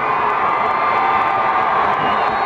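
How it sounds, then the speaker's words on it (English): A crowd cheers and shouts loudly and steadily at a high school District 6 1A football championship game, a dense roar of voices with whoops, no clear talk. "Listen to the crowd."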